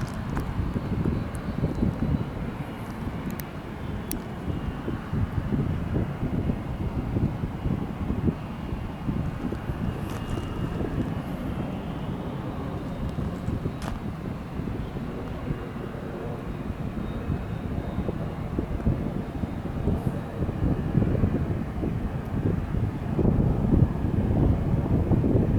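A United Express jet takes off at El Paso, its engines a steady, broad distant roar building slightly toward the end, mixed with wind buffeting the microphone.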